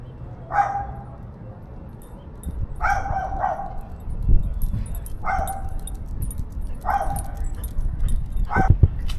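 A dog barking close by outdoors, about five sharp barks in a loose rhythm with pauses between, over steady rumbling background noise.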